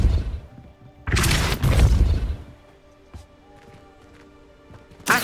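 A Depulso repelling charm fires in the Hogwarts Legacy video game, a loud booming blast swelling for about a second, then fading under quiet game ambience with a faint tonal shimmer and a sharp hit at the end.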